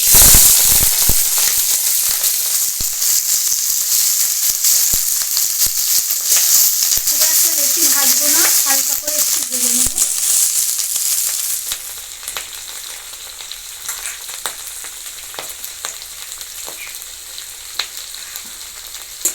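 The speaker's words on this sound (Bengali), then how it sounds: "এখন আমি পেঁয়াজ কলিগুলো দিয়ে দেবো তেল" Onion stalks sizzle steadily in hot mustard oil with a dried red chilli and panch phoron in a kadai, a loud continuous crackling hiss with scattered pops and stirring, easing slightly toward the end.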